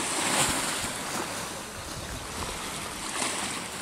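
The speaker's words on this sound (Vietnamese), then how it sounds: "Lượng sóng là khổng lồ đó các bạn." Huge ocean waves surge around a boat in a steady, loud roar of rushing water and wind noise, continuous and close with no speech.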